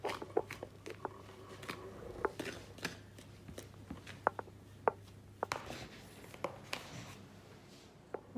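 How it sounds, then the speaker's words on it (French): A spoon stirs thick, compact cake batter for a Christmas log after baking powder goes in, making soft irregular scrapes and taps against the bowl, quiet and close with no talking. "Et je vais de nouveau remuer."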